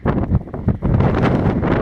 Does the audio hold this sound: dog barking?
no